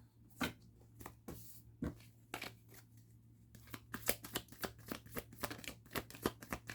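Tarot cards being shuffled and drawn at a quiet table, soft papery riffles and flicks in irregular bursts, then a quicker run of crisp snaps and slides, close and faint over a low steady hum.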